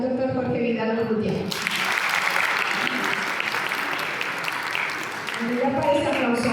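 An audience at a university panel discussion breaks into steady applause lasting several seconds, framed by someone speaking into a microphone before and after.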